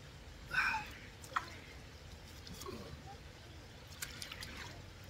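A stone soaking in a stream gives a faint, close trickle of water with a few light splashes and drips against quiet outdoor background.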